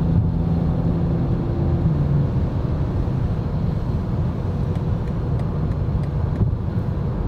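BMW M440i G22 with a 275 kW inline-six picking up speed on a road at night, a steady, loud engine and road drone that holds level throughout with no talk.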